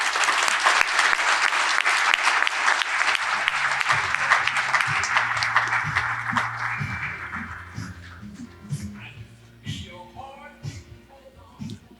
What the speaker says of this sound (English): let's give Kenyatta a round of applause